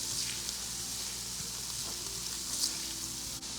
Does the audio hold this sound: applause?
no